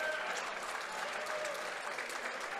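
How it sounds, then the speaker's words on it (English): Steady applause from a crowd at a prize handout during an X-wing tabletop game national championship event, continuous and somewhat distant, with faint voices mixed in. "They're handing some type of prizes out at some event to our right here. That's why you get all the clapping."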